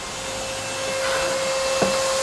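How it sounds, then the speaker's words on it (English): A vacuum cleaner runs steadily on its own, a constant loud whine with a strong hum, as a cordless Makita table saw setup sits idle. "you will hear the noise of the vacuum"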